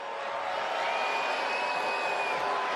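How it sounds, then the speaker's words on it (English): Wrestling arena audience roaring and cheering, a dense, steady wash of crowd noise with whoops that stays loud and continuous throughout. "You guys can cheer for that."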